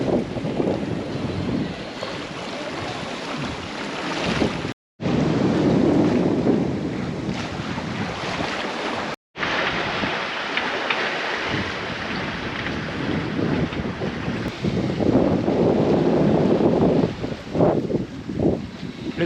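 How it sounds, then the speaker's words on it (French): A morning rain squall of around 35 knots hits a sailboat on an east-to-west Atlantic crossing: steady, loud roaring wind and rushing water fill the whole stretch, with two brief dropouts and no voices. "Le petit grain du matin, je l'ai eu finalement."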